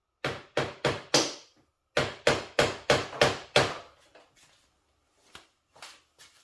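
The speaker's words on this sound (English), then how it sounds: "Using a wooden mallet essentially and a hammer." Sharp wooden knocks from a wooden mallet tapping carbon fork sleeves onto a KTM 390 Duke motorcycle, in two quick bursts of four or five evenly spaced taps, each crisp and close, followed by a few fainter scattered taps.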